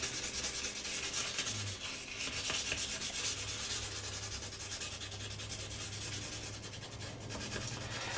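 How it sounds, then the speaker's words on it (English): Continuous sanding of a scale model's nacelle with 400 grit sandpaper, a steady close scratchy rubbing that runs throughout without pause, a low hum underneath. "I'll go into my 400 grit and kind of smooth it all off."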